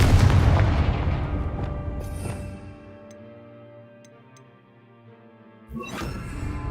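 A Confringo blasting spell exploding in Hogwarts Legacy: a loud booming blast that decays slowly over a few seconds into a ringing, ticking tail, followed by a second loud burst near the end.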